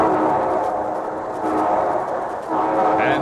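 A steam train sound effect from an old-time radio broadcast rolls by loud and steady, with a sustained rumbling chug under a brief whistle-like tone near the end.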